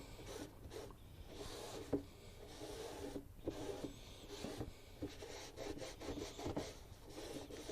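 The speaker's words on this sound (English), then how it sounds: "A little bit of scrubbing, that thing will look like new." A 2006 Grand Prix overflow tank being scrubbed with degreaser gives a close, quiet, rapid brushing and rubbing with a few sharper knocks, steady throughout and without speech.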